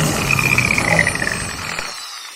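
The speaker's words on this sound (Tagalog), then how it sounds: "Drill time." A power drill bores a hole in a motorcycle helmet visor, a loud close whine lasting under two seconds before stopping abruptly.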